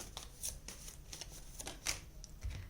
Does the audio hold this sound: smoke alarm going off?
no